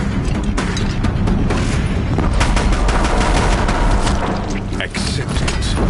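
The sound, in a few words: Deathbringer machines firing guns in Horizon Zero Dawn video game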